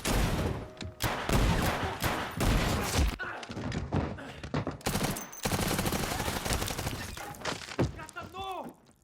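Rapid pistol fire from a 1911 in a crime-thriller scene from The Tax Collector: a dense, loud volley of shots and heavy thuds running for several seconds, with voices mixed in under the gunfire.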